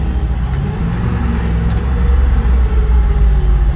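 A vehicle engine revs up during a clutchless downshift from second into first while moving fast, a loud close rumble that swells steadily with no voices over it.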